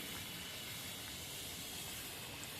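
Pumpkin gharge puri dropped into hot oil over low flame, giving a steady, quiet hiss and fine bubbling sizzle that holds evenly throughout, close by and without talk.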